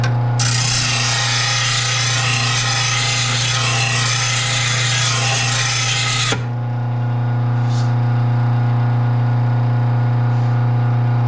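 A blade from a LawnBoy push mower is sharpened with a loud continuous grinding rasp lasting about six seconds, then it cuts off abruptly, leaving a steady low motor hum running on alone.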